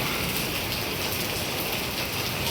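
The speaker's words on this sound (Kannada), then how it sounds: "ಸ್ವಲ್ಪ ಜೋರಾಯಿತು ಗೈಸ್ ಮಳೆ ನೋಡಿ" Heavy rain pouring down, a dense, continuous hiss of drops striking surfaces close by, steady and unbroken with no voices.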